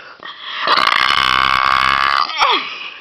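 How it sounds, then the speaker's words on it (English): A loud, long burp at a campsite rumbles for over a second and ends with a short squeaky tail, followed by a brief breathy sound. "Burp one more time."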